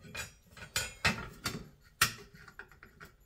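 A metal shower trim plate slid back over the handle during a cartridge repair, giving a few sharp close clinks and scrapes in quick irregular succession, loud and isolated.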